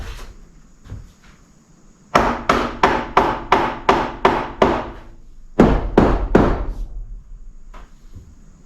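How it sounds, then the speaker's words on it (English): A flooring-nailer mallet raps butcher block wood countertop in two steady runs of sharp, close knocks, eight evenly spaced blows, a pause, then four more, with a quiet room between. "I'm actually using a mallet from a flooring nailer, which just so happens to be what I have handy here"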